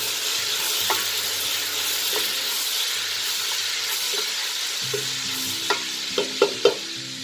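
A pan sizzles steadily while seafood pasta cooks and white wine is added, with a hissing fry broken by a series of sharp utensil clicks near the end.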